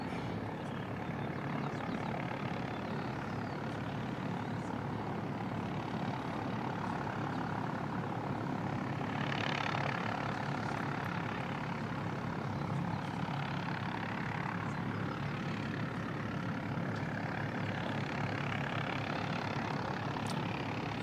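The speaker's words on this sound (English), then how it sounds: "Air China 737 just south of the airport, just cruising along at" An Air China Boeing 737 cruises at 3,300 feet just south of Christchurch Airport in New Zealand, giving a steady, distant broadband engine drone that swells slightly midway and holds for the whole stretch, with no voices.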